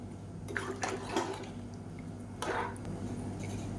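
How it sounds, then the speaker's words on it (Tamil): Hot water poured into a simmering vegetable curry in a home kitchen, giving a soft, near splashing pour with a couple of brief gushes over a low steady background hum. "இப்போ இந்த ஸ்டேஜில் குழம்புக்கு தேவையான அளவுக்கு தண்ணி சேர்த்துக்கலாம்"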